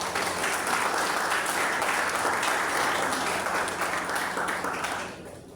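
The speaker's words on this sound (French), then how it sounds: "Et cela mérite un applaudissement." Audience applause at a ceremony with UNESCO and the police handing out trophies, a strong, even roar of many people clapping that runs for several seconds before tapering off at the end.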